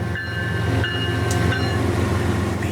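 A northbound Norfolk Southern freight led by Southern Railway heritage locomotive 8099 rumbles past, steady heavy diesel roar with rolling rail noise and faint clanks, no voices.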